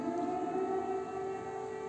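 A steady wailing air raid siren in Ukraine holds a sustained tone, loud and continuous, with no voices over it.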